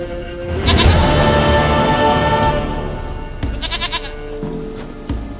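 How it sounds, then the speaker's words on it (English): A goat bleats in The Witcher 3: Wild Hunt video game, with a long, loud, wavering bleat up close followed by shorter quavering bleats, over faint background music. "Goat of mine, dearest, sweetest goat."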